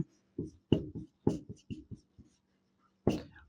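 Chalk or marker strokes on a board in a classroom, a series of short, distinct scratching bursts in quick clusters with a pause before a final stroke, close and fairly quiet.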